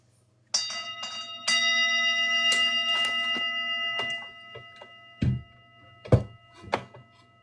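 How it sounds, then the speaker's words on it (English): A small bell chime rung out during a livestream, with a single bright ringing tone that sustains for a few seconds, followed by a few short knocks and thumps nearby. "I'm going to give a little chime out."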